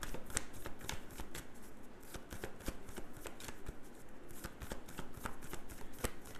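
Tarot cards are shuffled for a reading: a quiet, continuous run of rapid riffling and slapping card sounds, close up with no talking.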